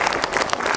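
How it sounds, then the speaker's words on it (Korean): A cinema audience at a film guest-visit event claps, giving a brief burst of dense, even applause from many hands. "박수 한번 부탁드릴게요"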